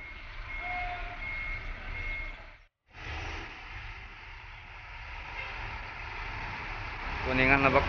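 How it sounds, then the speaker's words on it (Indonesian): Prima Jasa bus maneuvering into the departure lane at a bus terminal, a steady engine rumble with reversing beeps sounding near the end, voices talking over the busy terminal noise. "Ada bus Prima Jasa yang mau masuk ke jalur pemberangkatan."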